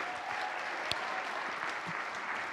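Audience applause in a church gathering, honoring university students who have just finished their term; a steady, dense wash of many hands clapping throughout, moderately distant and fairly quiet, with no talk.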